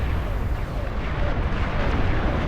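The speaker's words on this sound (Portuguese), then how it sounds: "A minha artilharia, esses caras aqui do fundo, estão lutando." Artillery units firing in the strategy game Beyond All Reason, a dense, continuous rumble of booming shots and blasts layered together at steady loudness, with no clear gaps between impacts.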